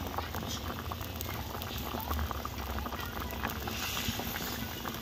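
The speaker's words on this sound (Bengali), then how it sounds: "ঝোল ফুটতে লেগেছে" Fish curry broth with koi fish and potatoes boiling steadily in a pot, a continuous dense bubbling and hiss at close range, holding an even loudness throughout with no talk over it.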